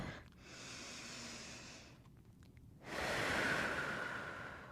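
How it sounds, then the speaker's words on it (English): A slow, deep breath drawn and released during a pilates forward fold, soft and close, with a quiet inhale, a brief pause, then a longer exhale. "just a deep breath"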